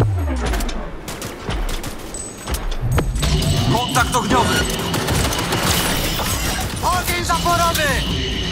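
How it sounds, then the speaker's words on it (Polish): Dense barrage of automatic gunfire in Cyberpunk 2077 Phantom Liberty, with loud overlapping bursts and sharp cracks running continuously, thickening after a few seconds into a sustained volley mixed with impacts and clattering debris. "Ogień zaporowy!"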